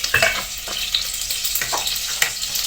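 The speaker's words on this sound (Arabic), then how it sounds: "غنزيدو عليها شويه ديال الزيت بلديه" Butter and olive oil sizzle in a pan, a steady close hissing fry with occasional small crackles and soft stirring taps throughout.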